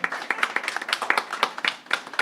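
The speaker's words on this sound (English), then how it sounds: "give yourself the round of applause" An audience at a farmworkers' people's tribunal hearing claps in a steady burst of applause, fairly close and without speech.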